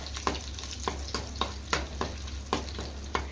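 Tempering spices, crushed garlic and curry leaves sizzle in hot oil for ginger chili chutney while a spoon stirs the pan, a constant close fry punctuated by regular scraping strokes and crackles roughly every half second.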